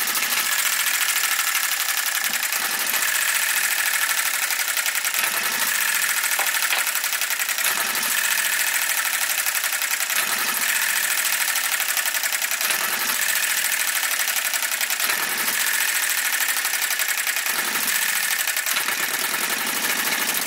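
An Enjomor 6cc hit-and-miss model engine runs steadily on its own, giving a continuous mechanical chatter that is broken by regular firing beats about every two and a half seconds.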